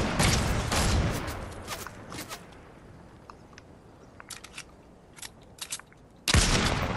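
Bursts of rapid video-game gunfire from a Fortnite match crackle loudly at the start and again at the end, with sparse scattered shots and clicks in between and no speech.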